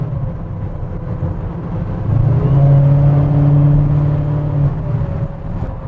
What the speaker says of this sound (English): Just driving an old truck, as you can see with the Supercharger